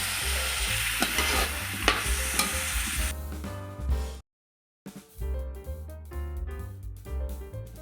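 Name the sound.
potato and carrot frying in a pan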